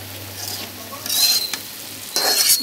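Mixed vegetables frying in a pan with panch phoron, a low sizzle broken by two louder scraping bursts as the pan is stirred, close up with a faint hum beneath.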